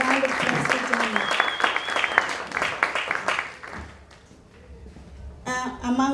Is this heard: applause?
yes